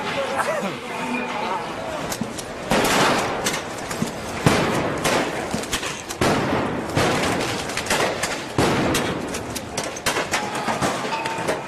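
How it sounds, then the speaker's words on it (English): Gunfire at the Maidan Square protests in Ukraine comes in repeated bursts of loud, sharp reports and rapid volleys amid crowd noise and chaotic shouting. "Maidan Square turns into a bloodbath with everyone shooting at everyone"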